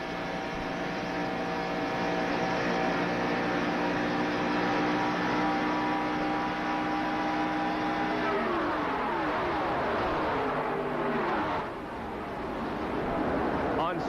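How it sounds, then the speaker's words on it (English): Onboard a 1987 NASCAR stock car racing at Talladega, a loud, sustained engine drone with steady harmonic whine, shifting pitch partway through as the car moves in traffic, roaring continuously near the microphone. "We're inside Cale Yarborough's car."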